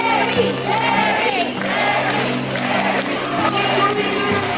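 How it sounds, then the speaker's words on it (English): Bird show audience at Jurong Bird Park clapping and shouting the name of Barry, a green-winged macaw, in a loud, continuous, sustained crowd roar with chanting voices. "clap your hands and shout his name"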